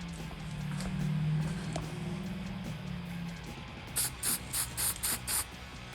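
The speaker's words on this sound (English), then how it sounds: "give it a little spray." Aerosol vinyl sealer hisses onto a guitar body in a long quiet spray, followed by a run of short rhythmic bursts, up close and with no talking.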